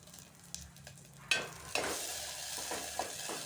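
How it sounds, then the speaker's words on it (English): Chopped onion with mustard and cumin seeds fries in hot oil in a pan, a quiet steady sizzle broken by several sharp spatula knocks and stirring scrapes, close by with no talk. "heat a pan, add oil, add some mustard seeds, some cumin seeds, chopped onions"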